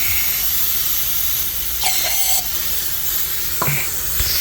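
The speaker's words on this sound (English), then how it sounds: "I'll put some carb cleaner in there, get a little carb cleaner down in there." Aerosol carb cleaner hisses in loud bursts as it is sprayed down into a brake caliper, a steady spray broken by a few short pauses and sharper spurts near the end.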